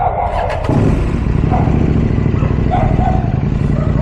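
A motorcycle engine at a ferry terminal runs close and loud, a rough throbbing idle that picks up sharply after a brief quieter start and stays steady, with no talk over it.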